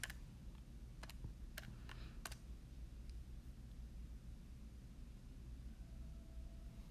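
Several sharp, separate clicks of keys pressed on a calculator come in an irregular run early on, then stop, leaving only a faint, quiet background hiss.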